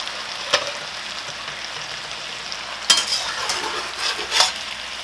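Chicken adobo sizzling in a wok while being stirred, a steady frying hiss broken by several sharp scraping strokes of a utensil against the pan, close and fairly loud with no talking.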